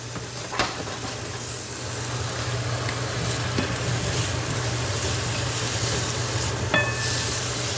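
Blanched vegetables cooking in butter in a pan, giving a continuous steady sizzle with a low hum underneath and a few light clinks, no voices.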